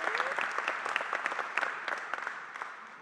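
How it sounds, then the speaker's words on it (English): Audience applause at a city council small business session on flavored tobacco regulation, with distinct individual claps from a modest crowd, fairly close, gradually thinning out toward the end. "Give a round of applause."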